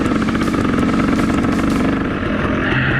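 A KTM 300 two-stroke dirt bike engine revs loud and close, with a rapid buzzing pulse that climbs and then eases off near the end.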